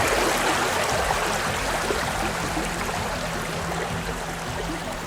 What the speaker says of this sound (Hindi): रेतीले पहाड़ों से गुजरती हुई नदी की कलकल धारा